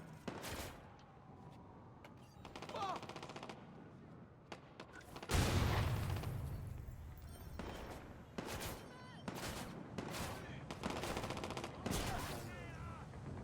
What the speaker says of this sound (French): Ça me tire dessus, c'est cool.